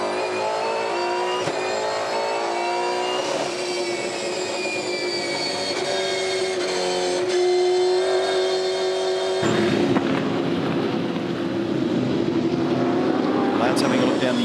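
V8 Supercar race engines at Winton howl continuously at high revs, with pitch rising and shifting as cars pass, heard under a commentator's voice.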